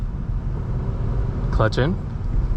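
A 2023 Subaru BRZ Premium driven at night holds a steady low engine and road drone throughout, with a brief voice rising over it partway through.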